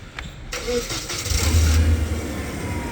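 The gas engine of a Hyster H1.6FT compact forklift cranks and catches, settling into a rough, rumbling idle close by.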